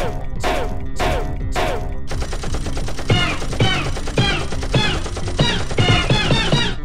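Spaceship gun firing at an incoming missile: three sharp blasts open the sequence, then a sustained rapid stream of punchy shots with a steady mechanical rhythm.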